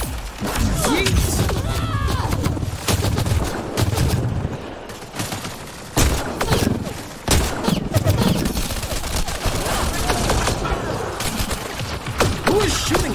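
Gunfire in the Mass Effect Andromeda video game: dense, continuous bursts of shots and heavy impacts throughout, loud and close, with a voice talking over the fighting.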